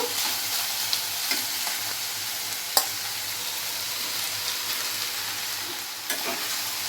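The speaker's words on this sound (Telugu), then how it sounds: "ఈ మొలకలు వేసాక ఒక టూ మినిట్స్ ఇలా వేడి మీద ఇలా తిప్పుతూ ఇలా అవి కూడా కొంచెం ఫ్రై చేద్దాము" Sprouted green gram fries in a pan while being stirred: a steady close sizzle runs throughout, broken by a few sharp spoon scrapes and clicks against the pan.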